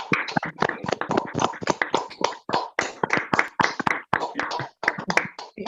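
Several people clap together in a dense, uneven burst of hand claps lasting the whole stretch, fairly close and loud, with no talking over it, as unmuted participants join in applause.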